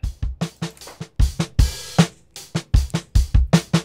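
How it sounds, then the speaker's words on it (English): Clean lo-fi drum break loop with punchy kicks, snares and hats in a tight repeating rhythm, dry and upfront with no voices. "This is the clean drum break."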